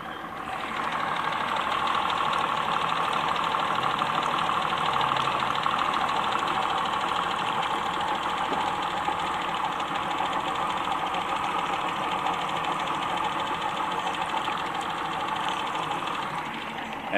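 A boat outboard motor fitted with a 15-pitch, three-blade stainless steel propeller runs at a constant pace, giving a loud, close, unbroken engine drone with a rough, knocking edge and no voices over it.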